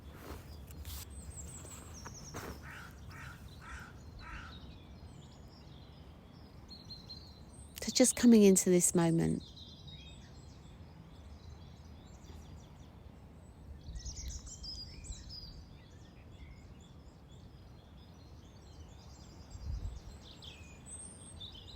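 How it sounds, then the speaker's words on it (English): Outdoor birdsong in scattered chirps and calls, with one louder burst of fluttering notes near the middle, while a calm voice speaks softly throughout. "enjoying the bird song"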